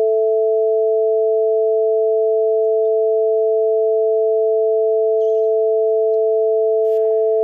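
Two steady pure sine tones sound together a perfect fifth apart, the upper at 660 Hz, held evenly and loud throughout with no other sounds apart from a faint click near the end.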